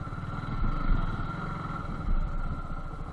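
A Suzuki Gixxer SF ABS with a fuel-injected engine runs while riding, a steady low engine and exhaust drone that swells twice, heard alone without talk.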